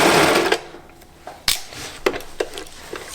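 A sewing machine stitches the three knit layers of a cowl collar together, with a steady whir for half a second followed by short clicks and taps as the fabric is handled.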